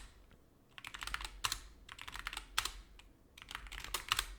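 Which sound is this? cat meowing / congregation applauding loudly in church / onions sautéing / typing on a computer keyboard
typing on a computer keyboard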